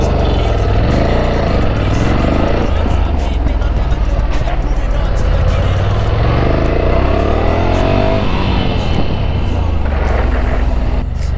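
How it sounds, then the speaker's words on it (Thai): A Ducati Scrambler motorcycle engine runs close by with a steady loud rumble and shifting revs, while people talk over it throughout. "อันนี้เป็นดูคาติสแครมเบอร์"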